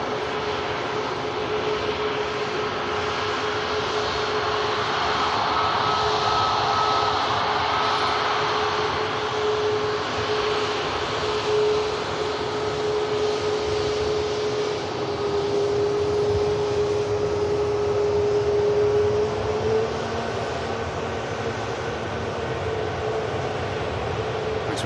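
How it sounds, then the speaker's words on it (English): EasyJet Airbus A320neo jet airliner on its take-off roll at Manchester Airport, a sustained distant engine roar with a steady whine, broad and even for the whole stretch. "EasyJet Europe on the roll now for Belfast"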